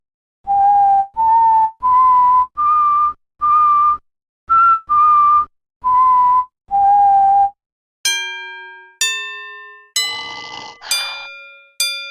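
Cartoon donkey snoring in Scooby-Doo Showdown in Ghost Town: about nine loud, evenly spaced whistling snores, each a short rising tone, then a few bright bell dings at the end.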